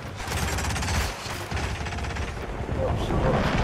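Gunfire from the video game Hitman: a loud, rapid burst of shots running almost continuously across the clip, with dense mechanical crackle and no talking over it.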